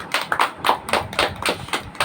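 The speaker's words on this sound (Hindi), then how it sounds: "ताली बजाओ यीशु के लिए।" A congregation at a Hindi-language church service claps for Jesus, with sharp, fairly regular claps heard close and loud in a quick rhythmic series, without talk over them.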